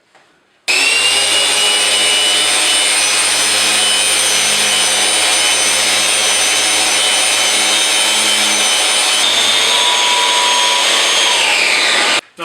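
Festool Rotex 150 sander running with a CT26 dust extractor in a workshop, a steady loud whine with broadband hiss that starts abruptly, holds for about twelve seconds, then cuts off.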